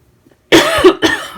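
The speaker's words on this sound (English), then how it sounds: "I'm gonna cough." One loud close cough, then a second shorter cough right after it.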